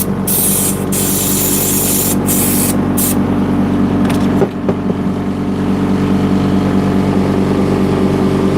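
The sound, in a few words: air compressor being emptied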